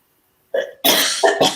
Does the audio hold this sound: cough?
yes